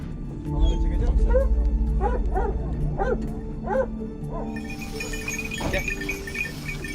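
Hunting dogs bay at a cornered wild boar on an island overrun with boars, a series of sharp rhythmic barks and yips close by, with someone talking over the barking.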